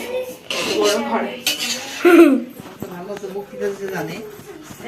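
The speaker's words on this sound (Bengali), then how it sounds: "মামিমণি হচ্ছে কড়াইতে নাড়ছে এই যে চাউমিনটা" Metal utensils scrape and clank against a wok in uneven bursts as chow mein is stirred, close by, as a person talks over the stirring.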